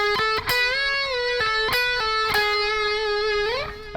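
A distorted electric guitar plays a solo phrase, with quick picked notes, pull-offs and a string bend that rises near the end. The sound is close, sustained and bright, with no talking.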